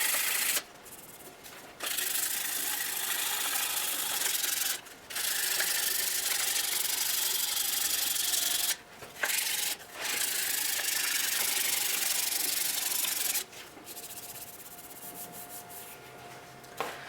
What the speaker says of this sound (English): we'll go ahead and sand along the length of it